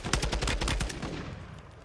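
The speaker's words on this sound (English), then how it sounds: "I got shot from the right side." Rapid automatic gunfire in a shooter video game, a fast burst of loud close shots lasting about a second, then fading out.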